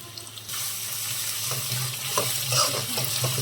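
Onion pickle ingredients fry in hot oil, with a hiss that starts abruptly and stays steady and fairly loud, broken by occasional crackles and soft stirring bumps.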